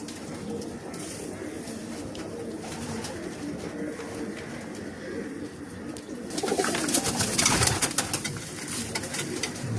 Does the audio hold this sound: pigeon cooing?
yes